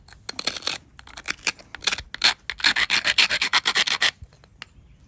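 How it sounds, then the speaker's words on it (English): Flintknapping a stone flake by grinding its edge to isolate a platform, a series of close, loud scraping rasps in rapid strokes that build into a steady rhythmic run before stopping. "Give her a nice grind."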